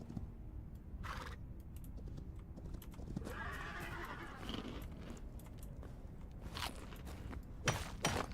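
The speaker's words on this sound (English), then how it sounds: "I can mount the skeleton horse." Skeleton horse in the game Hytale, with steady clip-clop hoof steps and occasional whinnying neighs over a dense in-game background bed, fairly close and moderately loud.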